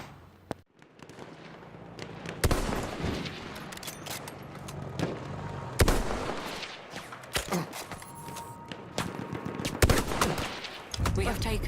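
An enemy artillery barrage in the Battlefield 1 video game, with loud, irregular booms and sharp bursts of gunfire crowding together over a continuous battlefield din.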